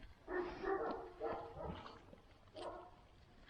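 A few soft barks and yips from shepherd dogs at night, fairly faint and a little distant, coming in short uneven bursts.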